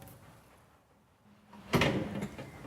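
Soft-close larder cabinet door being opened: quiet handling, then a sudden sliding whoosh and clunk of the door and runners that carries on as a softer rumble.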